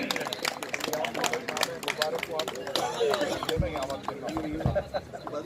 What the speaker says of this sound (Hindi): जोरदार तालियां बजाइए, आप सभी से अनुरोध है।